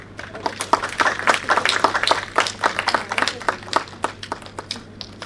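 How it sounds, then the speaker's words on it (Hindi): Audience at a book release event applauds as a guest is welcomed to the stage, with scattered, uneven hand claps rising and falling over a few seconds in a hall with a low steady hum. "दर्शकों से आग्रह है कि उनका जोरदार तालियों से स्वागत करें"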